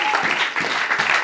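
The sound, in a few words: church congregation applauding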